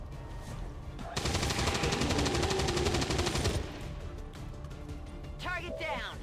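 Sustained burst of rapid machine gun fire in a video game, loud and continuous for a couple of seconds, followed by quieter game sounds and a voice speaking.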